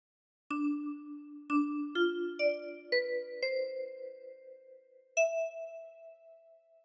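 Plucked metal tines of a ten-key kalimba ring out a slow, simple melody of Silent Night, each note chiming and decaying gently, with pauses between phrases.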